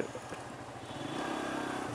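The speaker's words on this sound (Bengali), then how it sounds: "সো আমি বাইকটা অল্প কিছুক্ষণ চালাচ্ছি" A Suzuki GSX-S150 motorcycle is ridden along, its engine giving a steady, close drone blended with rushing wind noise that swells slightly toward the end.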